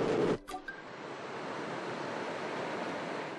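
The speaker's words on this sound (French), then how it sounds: "une vague d'eau salée remonte la rivière" The tidal bore on the Petitcodiac River, a wave of salt water pushing upstream, comes through as a steady, broad rushing roar of water after a brief thud at the start, with some wind noise on the microphone.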